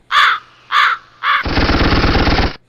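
A crow caws three times in quick succession, loud and close, followed by a sustained harsh rattling buzz of about a second.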